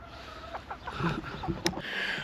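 Chickens cluck in a homestead chicken run with a newly built coop, giving short, soft clucks in quick succession at close range over faint outdoor background noise.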